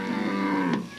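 Maasai cattle low with a single sustained moo lasting about a second, fairly close and clear, with no talking over it.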